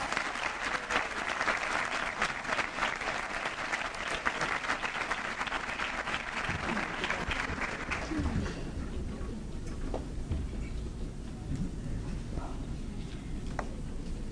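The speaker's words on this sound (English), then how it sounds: "Let's give them another round of applause." A seated audience at a 2013 teacher of the year ceremony breaks into sustained, dense applause that holds steady for about eight seconds, then thins out and tapers into scattered claps and quieter room noise.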